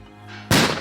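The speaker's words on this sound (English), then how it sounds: "This is just a mixture of chili powder and the firecracker inside. So and this is where they light a firecracker." A firecracker packed inside a chili powder mixture bursts with one sudden loud bang after a quieter lead-in, used by rangers to scare off elephants in a human-wildlife conflict area.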